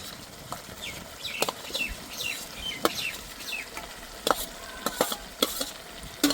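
Fried jackfruit being sautéed into a chicken curry, a low background sizzle broken by sharp, irregular clinks and scrapes of a spoon against the pan, fairly quiet and with no talking.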